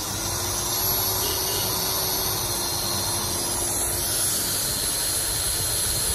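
Mitachi 6mm variable-speed die grinder running at speed setting 2, a steady, even high-pitched whine and hiss held constant and loud from start to finish.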